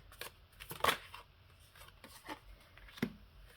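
Tarot cards drawn from a deck and laid down during a reading: a few soft, brief shuffling and slapping sounds, close and quiet, with scattered light rustles and no talk.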